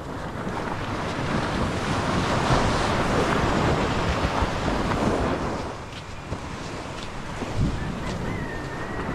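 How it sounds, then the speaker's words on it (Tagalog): Calm sea waves wash steadily under gusting wind buffeting the microphone, a continuous moderately loud surf with a brief lull partway through. "Kalmadong kalmado ang dagat."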